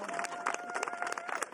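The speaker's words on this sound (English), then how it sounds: "can you give them a round of applause for what they achieved," Applause from an audience at a health care bill signing, a steady wash of clapping and crowd noise held at a fairly distant, even level throughout.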